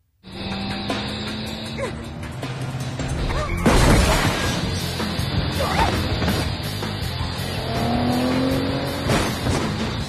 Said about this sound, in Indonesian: duel satu lawan satu antara Sani dan Arlong menggunakan mobil yang dimana dimenangkan oleh Arlong sehingga mobilnya Sani terjatuh